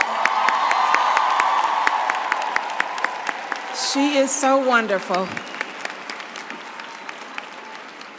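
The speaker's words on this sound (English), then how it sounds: "Can we give Ms. Henson another round of applause?" A large audience at the Spelman College 2025 commencement ceremony applauds in steady, dense clapping. Cheers, whoops and a voice rise briefly in the middle, and the clapping thins toward the end.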